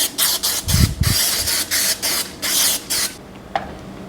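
Cooking spray hisses from a can in a series of short bursts, about seven or eight spritzes in a steady rhythm, close and fairly loud, with a couple of low knocks partway through.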